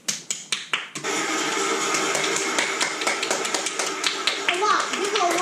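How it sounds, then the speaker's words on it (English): A few sharp claps at the start, then a continuous dense wash of rapid clapping or tapping in a Minecraft Woodland Mansion setting, with someone speaking over it. "So, guys, we just gave it a lot of claps."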